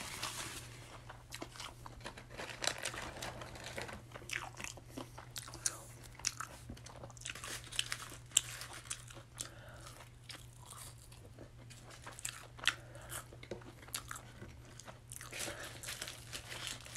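Biting and crunchy chewing of a Burger King Whopper Jr in a close, quiet mukbang setting, with wet mastication and occasional wrapper crinkles repeating steadily throughout, no talking.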